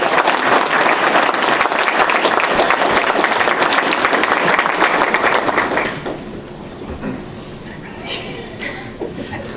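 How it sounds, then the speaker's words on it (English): Audience applauding finalists at a farm bureau discussion meet contest, dense loud clapping for about six seconds before dropping to a few scattered claps and quiet room noise. "Let's give the finalists a round of applause for this job."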